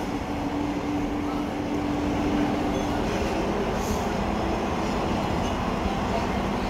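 An Amsterdam metro train runs through a tunnel beneath the water, giving a steady, loud, low rumble with a faint hum that holds evenly throughout without talk.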